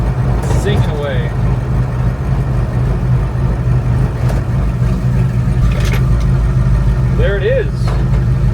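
A Ford F-100 truck engine drones steadily as the truck drives at speed, a rough, diesel-like hum that stays loud and close throughout, with someone talking over it.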